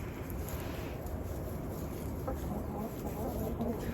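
Chickens cluck softly at a distance in a winter coop, with faint scattered calls over a low background hum.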